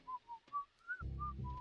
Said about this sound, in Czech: musíš si u toho pískat